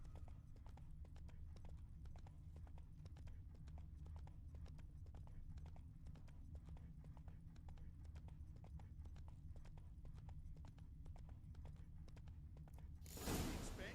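Roach, a horse in The Witcher 3, gallops in a fast, even run of hoofbeats close by, steady throughout before a brief louder burst at the end.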